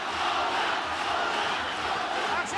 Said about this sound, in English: And the crowd get into it again.